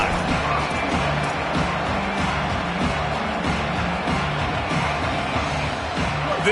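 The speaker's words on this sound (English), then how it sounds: "This crowd ready to make its presence known." A stadium crowd in a 2K American football video game roars as a steady, dense wall of noise that never lets up, with faint commentary voices mixed underneath.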